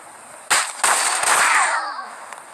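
Gunfire in a shooting video game: a sharp loud shot, then a second blast with a long ringing, fading tail and a brief falling whine. Faint crackles follow, with no voices over them.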